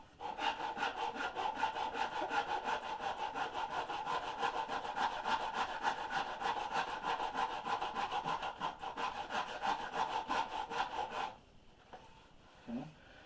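Hand tool rasping or sanding fuzz off a carved wooden boat half hull model, close rhythmic back-and-forth scraping strokes for about eleven seconds, then a few quieter scuffs.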